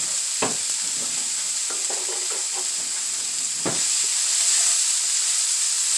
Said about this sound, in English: fry that up